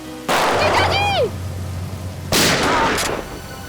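Gunfire in a TV crime drama comes as two loud blasts with a ricochet-like whine between them, each followed by a decaying tail.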